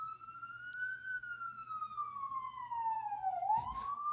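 A police car siren wails outside, its tone sliding slowly downward and then sweeping back up near the end, loud and continuous over a low steady hum, with no talk.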